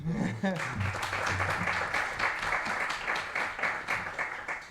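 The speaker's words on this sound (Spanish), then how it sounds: "Un aplauso para ti." Audience at a Spanish-language colloquium talk breaks into sustained, dense applause, fairly loud and steady, with a voice at the very start and faint voices beneath the clapping.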